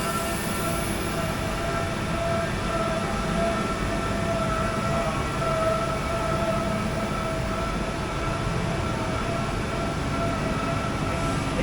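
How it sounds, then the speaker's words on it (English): CNC milling machines run in a bike parts factory, producing a loud, continuous mechanical roar with steady whining tones that fills the space without a break. "This is milling."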